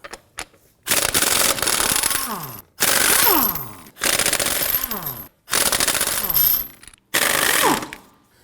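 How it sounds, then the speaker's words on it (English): A 19mm socket on an impact wrench loosens the rear wheel lug nuts of a Volvo XC90, with five loud, close bursts of rapid hammering, each lasting about a second or more and separated by brief pauses. "Using a 19mm socket, we want to get it loosened and remove our lug nuts."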